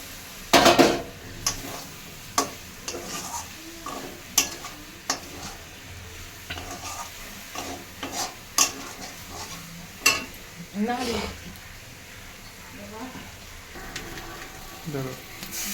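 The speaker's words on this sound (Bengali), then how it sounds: "মাছগুলো দিয়ে দিলাম" Prawns in a cooked-down spice paste, a soft sizzle broken by repeated sharp clanks and scrapes of a spoon against the pan, with a faint voice at times.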